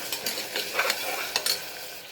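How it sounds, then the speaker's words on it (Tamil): Onions fried with curry leaves being stirred with turmeric powder in a pan, a light sizzle with a few scraping stir strokes through a short stretch, no talk. "நல்லா வணங்குனதும் மஞ்சப்பொடி போட்டு கிளறுங்க"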